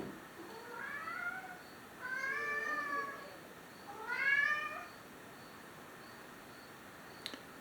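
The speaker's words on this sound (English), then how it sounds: "what you're seeing right there coming through is a cat walking through the shadows" Cat meowing three times in a quiet outdoor night setting, drawn-out rising and falling calls spaced a second or two apart over a steady faint hiss, moderately near.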